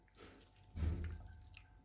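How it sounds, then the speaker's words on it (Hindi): Tamarind water is poured over a chickpea chaat, making a brief soft splash and trickle that swells midway and then fades, faint and close, with no talking. "और इस तरीके से ये थोड़ा सा पानी और ऊपर डालेंगे।"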